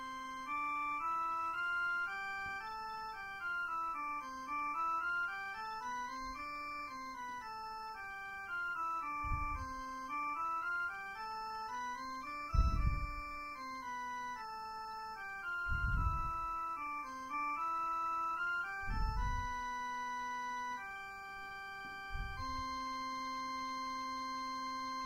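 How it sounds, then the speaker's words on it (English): Organ playing a slow exercise in 6/8 meter, a sustained melodic line with held notes and low pedal tones entering at intervals, even and soft throughout. "let's listen to this exercise a little bit slower, a little bit more appropriate tempo"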